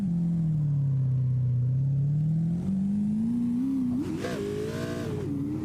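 A vehicle's engine drones loudly and continuously at full throttle, its pitch dipping and then climbing steadily as it accelerates, with a rougher surge near the end.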